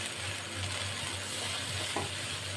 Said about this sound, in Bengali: এইভাবে মশলার সাথে যতটা কষিয়ে নিতে পারবো খাবারের টেস্ট ততটাই সুন্দর হয়।